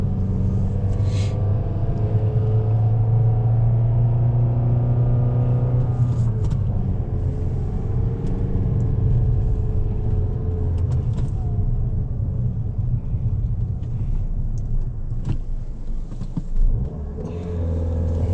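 A Dodge Dart's engine rumbles steadily while driving, a loud, continuous low drone that swells with revving partway through, with no talking over it.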